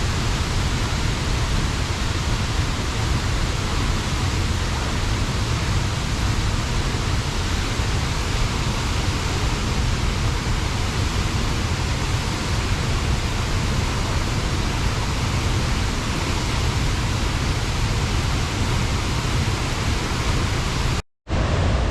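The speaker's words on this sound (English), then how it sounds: "a few minutes with Havasupai Falls just for you" Havasupai Falls in Arizona rushing steadily and loudly up close, a dense unbroken roar of falling water that holds constant throughout and cuts out for a moment just before the end.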